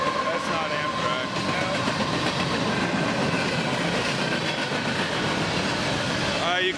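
A train rushes past very close at high speed, loud rumble and steady clickety-clack of rail cars filling the whole stretch, with occasional voices of hikers beside the track.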